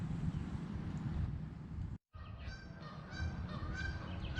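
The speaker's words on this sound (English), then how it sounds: "You can hear the Canadian geese." Canada geese honk repeatedly from a lake island, a scattered chorus of calls over steady wind noise, with a brief dropout midway before the honking picks up again.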